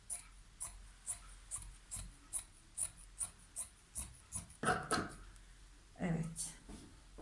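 Polar fleece fabric for pyjamas is cut in a steady rhythm of soft, crisp snips, close and faint, with a voice talking at times in the background.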